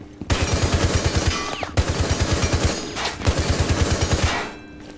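Rapid automatic gunfire in the video game Rainbow Six Siege, two sustained loud bursts of fast, evenly spaced shots with a short gap between them.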